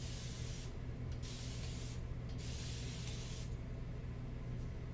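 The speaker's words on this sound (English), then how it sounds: "And now we're just kind of spraying some more." A spray bottle mists onto a mixed-media watercolor and acrylic painting in several loud, close bursts of hissing spray separated by short pauses, with no talk.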